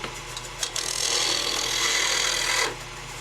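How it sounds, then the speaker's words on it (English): Square piece of wood turned into a dowel on a lathe while making a squirrel or rabbit game call: a steady, close rasping scrape of tool on spinning wood over a motor hum, stopping abruptly near the end. "you're just trying to square up that wood dowel right there"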